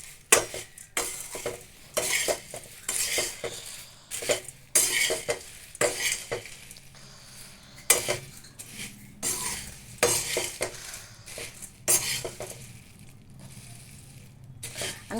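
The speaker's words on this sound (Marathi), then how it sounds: "आणि मग असं सगळं चिवडा मिक्स करून घ्यायचं" Crispy chivda snack mix is stirred and tossed in a pan, with repeated scraping and clattering strokes of a spoon against metal in an irregular rhythm, close and fairly loud.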